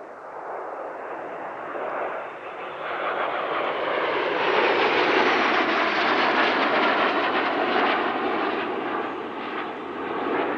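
A quartet of Fouga Magister jet trainers with butterfly tails flying an airshow display, a loud sustained jet roar that swells as the formation passes and then slowly fades, with no talking.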